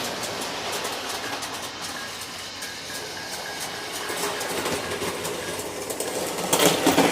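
A small O gauge model train runs along its track with a steady whirring rattle and clicking wheels, close by, growing slightly louder toward the end.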